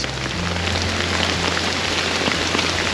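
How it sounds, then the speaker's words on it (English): Heavy rain dumps steadily in a Sri Lankan jungle, a dense, continuous hiss of large raindrops hammering nearby surfaces without a break, close and loud. "it's just such heavy raindrops"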